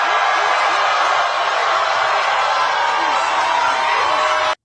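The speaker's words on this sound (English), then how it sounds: "And the crowd goes wild." Large crowd at a political victory speech for a New York City mayoral primary, cheering and roaring loudly and steadily, then cutting off abruptly at the end.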